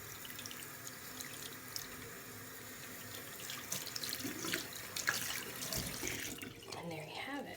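A synthetic wig cap is rinsed under a running tap, a steady broadband rush of water that thickens with splashy bursts midway and then cuts away near the end.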